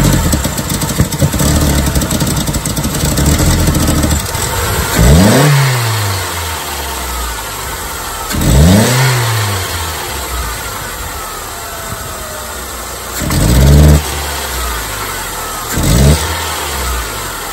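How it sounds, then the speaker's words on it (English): A 1999 Saturn SC1 with a SOHC engine and a lean fuel condition idles roughly, then gets four separate throttle blips. Each one rises to a loud rev and falls back to idle, heard close up with no voices. "Now we'll go ahead and give it some gas."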